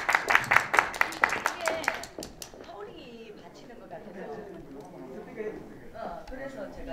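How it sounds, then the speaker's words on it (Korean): Audience at a performance event clapping in a quick burst of distinct claps for about two seconds, then fading out as a voice speaks over the hall. "여러분 박수 좀 주세요."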